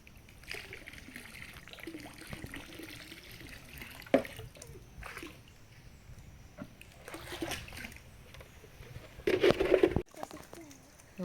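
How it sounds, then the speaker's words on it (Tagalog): Strong current of water rushing and splashing in a rural stream where bamboo crab traps are set, a continuous close wash with louder splashes near the end. "Lakas agos."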